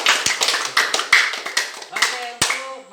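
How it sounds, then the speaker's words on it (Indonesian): Classmates clap for a student in a junior high school Islamic education lesson, a series of sharp, uneven hand claps close by over a murmur of children's voices. "Tepuk tangan buat Teruna."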